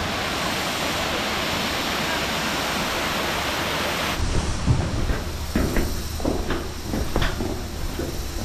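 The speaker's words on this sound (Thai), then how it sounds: "น้ำตกภูผาแด่นครับสวยงามมากเลย" Phu Pha Daen waterfall in a fern- and moss-covered forest makes a loud, continuous rushing roar that drops after a few seconds to a softer flow broken by close splashes and knocks.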